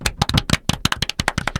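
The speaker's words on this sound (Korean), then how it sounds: "박수 한번 치시죠" A few people clap hands together close up, a brisk burst of about a dozen sharp, uneven claps with no talking.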